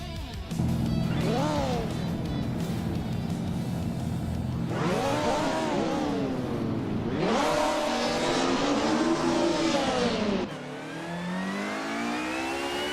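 Race cars in a video game start a race on the Long Beach track, with loud engines revving and climbing through the gears in several rising surges, one after another, close and continuous.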